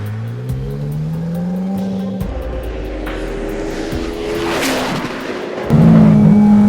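A Ferrari 458 Challenge Evoluzione race car engine roars loudly at high revs on a track, shifting pitch as it accelerates through gears, with a surge in intensity near the end.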